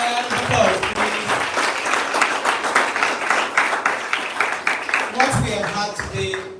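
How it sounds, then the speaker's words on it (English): An audience at a student gathering on malaria gives a sustained round of dense clapping that swells and holds, while a voice speaks briefly over it at the start and end. "Can we give him another round of applause, please?"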